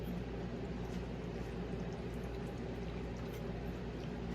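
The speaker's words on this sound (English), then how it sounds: "I turn it upside down and hold the trigger, and it should run out the top of your vent up here" Paint thinner running out of the top vent of an upside-down paint gun with the trigger held, a steady continuous pouring, liquid rush with low gurgling underneath, close and even throughout.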